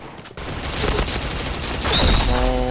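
Bursts of rapid video-game gunfire from a shooter, firing close and loud in dense volleys, with a brief quiet gap near the start and a rising electronic tone at the end.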